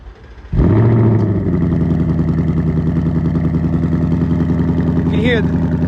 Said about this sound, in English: the exhaust is pretty loud